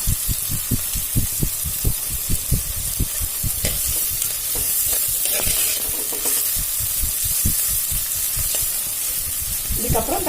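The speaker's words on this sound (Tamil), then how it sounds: "வெங்காயம் வதங்கட்டுங்க." Onions with a pinch of salt sautéing in a pan for a home-style Tamil chicken and capsicum gravy: a steady sizzle and fry hiss under a run of quick, rhythmic stirring scrapes from a spoon, close and fairly loud, with no talking.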